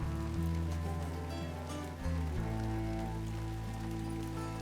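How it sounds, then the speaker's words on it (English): Steady rain patters across a surface alongside a continuous low droning hum, filling the whole stretch with no one speaking. "You can hear the rain."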